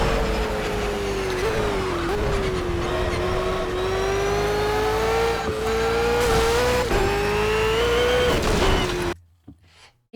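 A race car engine in the Project Cars racing game screams through a hotlap, loud and sustained with pitch dips at gear shifts and corners, cutting out abruptly near the end.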